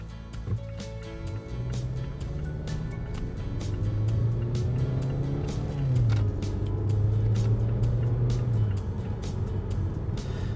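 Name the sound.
car accelerating hard from 0 to 60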